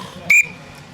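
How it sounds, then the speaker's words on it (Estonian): A referee's whistle at a season-opening triathlon in Paide gives one short, sharp, piercing blast lasting about a tenth of a second, loud against quiet outdoor background. "Tegelikult peaks tähelepanu juhtima sellele vilele."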